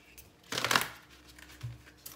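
An oversized tarot card deck is shuffled by hand in a few loud papery riffles and shuffles, a main burst followed by shorter, softer card rustles close to the microphone.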